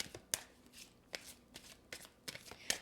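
Angel oracle cards riffled and shuffled by hand, several quick papery bursts at an irregular rhythm, close and fairly quiet with no talking.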